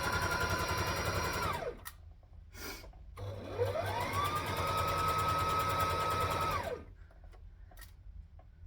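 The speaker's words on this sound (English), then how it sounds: "So I'm going to stitch forward and back, and then I'm just going to work my way along." An electric sewing machine stitching along a skirt seam runs in two fast whirring bursts that rise and fall in speed, with a short pause and small handling noises between.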